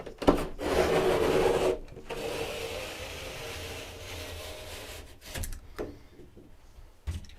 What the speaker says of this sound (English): I'm just going to use my utility blade and go right down the seam